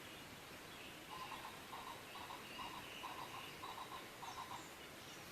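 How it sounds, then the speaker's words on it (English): Wood pigeon cooing at a minimal solo campsite, a faint rhythmic series of soft repeated coos at a distance over a steady outdoor background hiss. "Can you hear that wood pigeon?"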